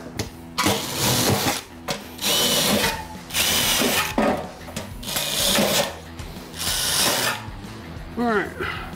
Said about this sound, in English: we pre-drill.